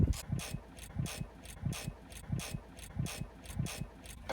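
A socket wrench with a 19mm socket ratchets on the large brake caliper bolts of a Nissan 240SX S13, giving a series of rapid clicking bursts in a steady rhythm, close and alone.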